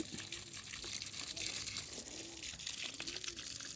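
Water pours steadily from a hose onto Korean ficus hedge plants, a continuous splashing gush at close range, with soft cooing birds repeating in the background.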